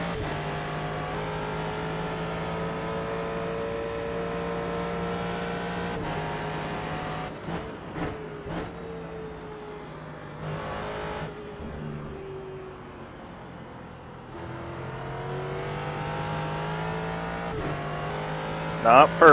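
A Ford GT3 race car drives around Suzuka in the iRacing simulator, its engine droning loudly and steadily, dipping and rising through a hairpin with downshifts and revving back up. Someone talks over the engine.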